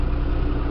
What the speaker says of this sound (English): Good size utility tractor